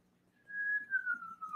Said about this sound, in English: Did I whistle Star Trek?